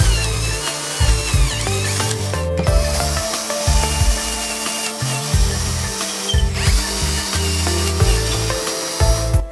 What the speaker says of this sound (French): Percez les trous des boulons de fixation au diamètre indiqué sur le gabarit.